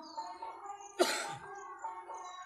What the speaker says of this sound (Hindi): इस तरीके से अगर खांसी आ रही है आपको